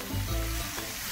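Ground masala with ginger-garlic paste and turmeric sizzles in a pan just after a splash of water goes in, a close, steady bubbling hiss with faint stirring, no voices.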